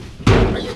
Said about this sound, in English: What are you dropping it on the ground for? This is a nice hood.